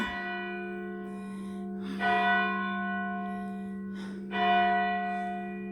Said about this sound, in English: And that's the church bells going off.